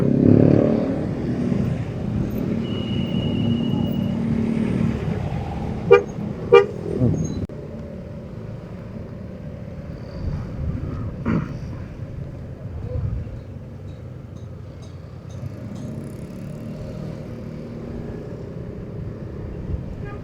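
Cars crawl through a traffic jam on the road up to Puncak, Bogor, with a steady engine rumble and a few short horn toots around the middle, then quieter traffic noise.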